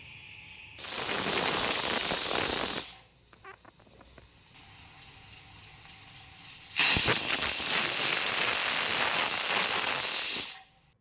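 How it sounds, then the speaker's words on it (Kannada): Pressure cooker whistling loudly as steam hisses out while cooking methi bath: two long, sharp steam whistles, each lasting a few seconds, separated by a quieter stretch of softer hissing and rattling. "ಮಿಕ್ಸ್ ಆದಮೇಲೆ ಕುಕ್ಕರ್ ಲಿಡ್ನ ಕ್ಲೋಸ್ ಮಾಡಿ 2 ವಿಷಲ್ನ ಹಾಕಿಸ್ಕೋತಾ ಇದ್ದೀನಿ"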